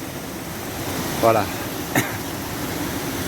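A waterfall roars as steady, loud broadband rushing water through the whole stretch, its flow heavy enough that the ground vibrates nearby; someone speaks briefly over it.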